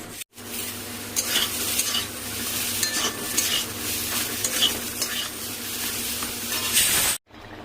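Pointed gourd frying in oil in a pan, a steady close sizzle with stirring scrapes and light utensil clinks, cut off abruptly at both ends.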